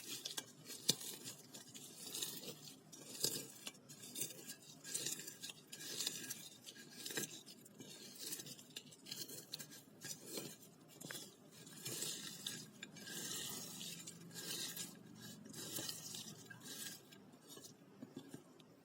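Mashed vegetable bharta worked by hand in a bowl with salt and no oil, giving soft squishy patting and occasional clinks of a utensil against the dish, steady and close throughout.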